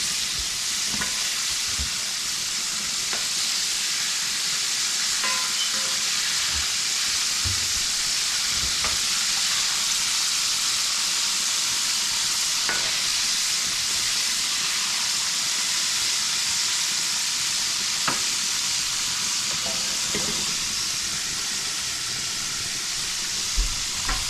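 Eggplant fries in a little oil, giving a continuous close sizzle with scattered small pops and crackles throughout and no talking.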